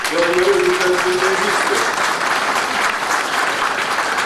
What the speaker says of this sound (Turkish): bir alkışı rica ediyorum